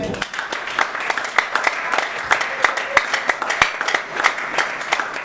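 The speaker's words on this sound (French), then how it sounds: "Acclamons pour le roi." A church congregation claps and cheers for the king in steady rhythmic applause, with crowd voices mixed through it and an energetic, reverberant feel throughout.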